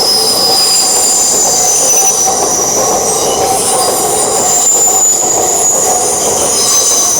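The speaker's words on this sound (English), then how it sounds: "A very, very busy looking train this." A busy passenger train runs past the platforms at Manors station in Newcastle, a loud, steady rumble of wheels on rail with a high metallic squeal running throughout, close by and with no voices.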